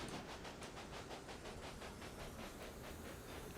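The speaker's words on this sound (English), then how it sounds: "That's our other freight train that was delivering weapons." A freight train in the Railway Empire video game rolls along steadily, with a rhythmic clickety-clack of wheels over rail joints and a constant hiss across the whole stretch. No one speaks.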